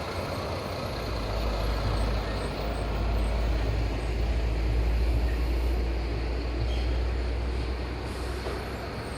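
Traffic passes at the Longdi toll plaza near Mahuva, a continuous heavy roar of trucks and engines with a faint hiss like air brakes, loud and steady throughout.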